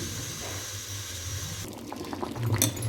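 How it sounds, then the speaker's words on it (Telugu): Pumpkin tamarind stew boils on high heat in a pot, giving a steady, close bubbling and hissing that grows busier and louder toward the end. "దీన్ని ఇప్పుడు కొంచెం హైలో పెట్టి మరిగించుకుని లాస్ట్లో కొత్తిమీర వేసుకుంటే సరిపోతుందండి"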